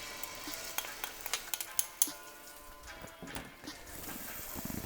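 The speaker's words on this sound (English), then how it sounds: "a little bit of oil, a couple of tablespoons of oil. Gonna chuck in the Málà paste first." Málà chili paste frying in a couple of tablespoons of oil in a pan, giving a faint, steady sizzle. Soft scraping and clinking from stirring punctuate it at a quiet level.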